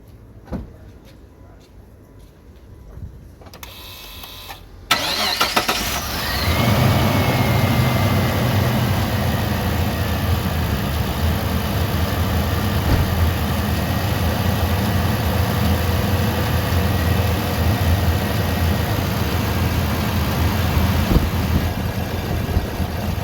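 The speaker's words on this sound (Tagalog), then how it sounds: "Start natin yung ating engine." A Mitsubishi Pajero Sport 2-door engine cranks and catches after some clatter, then settles into a loud, steady low idle that runs on; a voice speaks briefly at the start.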